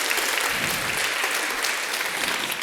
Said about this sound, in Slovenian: Ja, zaslužiš si aplavz.